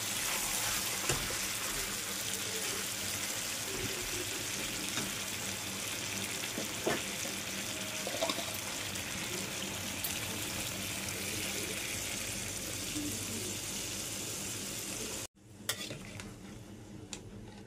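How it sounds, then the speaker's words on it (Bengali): Water poured into a pan of fried poultry chicken curry makes a steady, loud hiss and sizzle with stirring scrapes of a utensil against the pan, cutting off abruptly near the end to a quieter simmer. "এখন এর মধ্যে জল দিয়ে দেব।"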